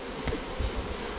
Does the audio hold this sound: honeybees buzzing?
yes